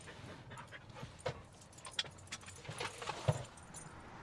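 Keys jangle in scattered bright clinks while dogs pant softly nearby before being leashed for the dog park; quiet and close, with no speech.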